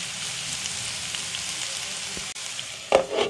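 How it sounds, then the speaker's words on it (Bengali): Food frying in a pan with sweetener added, a steady close sizzle throughout with a brief pause and a louder stir or clatter near the end. "ভাজতে দিতে হবে কিছুক্ষণ, ভাজা ভাজা হবে"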